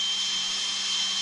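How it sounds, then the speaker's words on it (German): A power drill boring slowly into ceramic wall tile with a fresh bit, a steady high whine held at constant pitch and level throughout, close and uninterrupted, with no talking. "Und ihr merkt schon, wie sich der Bohrer da rein frisst"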